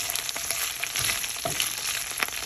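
Steady crackling sizzle of curry leaves frying in hot oil in a pan, close and continuous, with a few soft pops and stirring scrapes.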